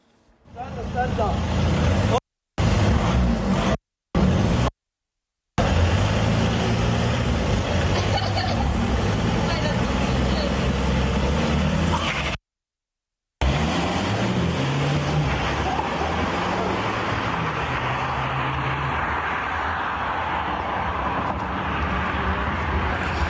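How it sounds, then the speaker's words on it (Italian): High-displacement cars roar through an illegal street race in a town centre near Treviso, loud, sustained engine noise broken by several abrupt silent cuts, with crowd voices mixed in. "Il rombo dei motori"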